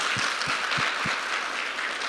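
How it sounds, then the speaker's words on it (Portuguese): Audience applause fills a live lecture hall in Alphaville, a steady dense clapping from a large crowd that holds for the whole stretch with no talking over it. "a salva de palmas para vocês"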